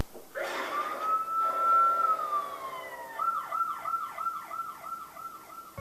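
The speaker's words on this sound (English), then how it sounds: "the one in Sly 4 is this police car sound effects" A police car siren from the video game Sly Cooper 4 opens with a long rising and falling wail, then switches to a rapid repeating yelp. It sounds close and clear, with no talking.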